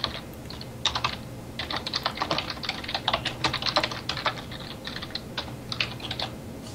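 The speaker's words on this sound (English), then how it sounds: "I heard you typing, so I figured you'd be the first to speak." Rapid, uneven computer keyboard typing fills the whole stretch, close and clear, with bursts of keystrokes and brief pauses, during an online game of Town of Salem; no one speaks.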